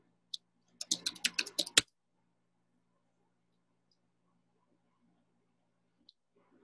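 Keys clatter on a computer keyboard as a city name is entered into a map search: a quick burst of close clicks lasting about a second, then near silence with one faint tap.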